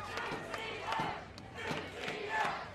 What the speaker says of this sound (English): Crowd trying to ignite the team.